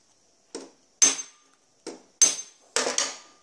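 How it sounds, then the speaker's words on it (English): A hammer striking saw teeth on a rusty anvil to set them: five sharp, close metallic taps spaced unevenly, each ringing briefly before dying away, with silence between. "There's a slight rock there, so this doesn't need much striking."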